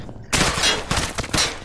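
Video game gunfire rings out in loud, close, rapid bursts of shots, cracking in quick succession with brief gaps between volleys.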